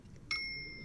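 A single bright bell ding from a film scene rings out clearly against a quiet background and fades slowly over less than a second.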